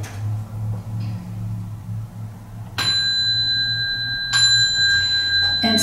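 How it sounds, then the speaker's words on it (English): A Montessori bell is struck twice, each ring a bright clear tone that lingers and overlaps the next, over a low steady hum in the room and with no talking. "we had the bell"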